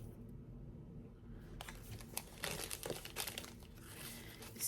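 A sticker is peeled and handled, with crinkly, papery rustles and crackles that grow busier and louder in the second half, close by with no talking.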